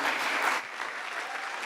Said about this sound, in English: Clap for Daktari.